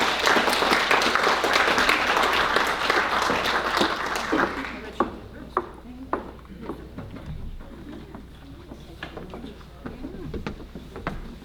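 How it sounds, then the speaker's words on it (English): Applause from a community gathering audience, a dense broadband wash of many hands clapping for about four seconds, then thinning into scattered individual claps that trail off over a quiet room. "How about a big hand clap and a warm welcome for Laura Robertson."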